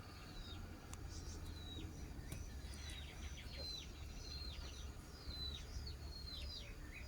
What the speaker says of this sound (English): The bush lark and other birds chirp away.